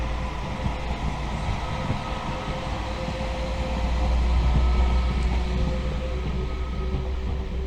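A train runs past on a nearby main line near the rail hub at Crewe, giving a steady, fairly loud rumble that swells slightly midway, with no voices.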